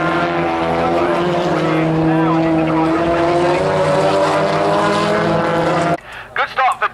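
BTCC touring cars race past at Thruxton in 2017, a loud sustained engine roar with shifting pitch and a commentator talking over it, ending abruptly into quieter crowd-level sound.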